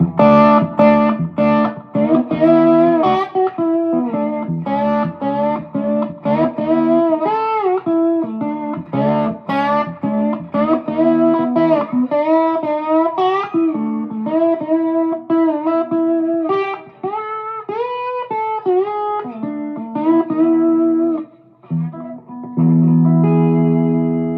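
An electric guitar with humbucker pickups plays a continuous melodic run with a smooth, creamy overdriven tone, touched with effects and reverb, loud and close with no talking.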